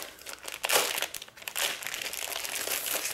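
A paper pack from a Felicity Jane July 2020 scrapbooking kit crinkles and rustles as it is handled up close, with bursts of crisp crackling that rise and fall over a few seconds.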